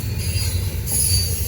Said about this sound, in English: I thought I missed this train.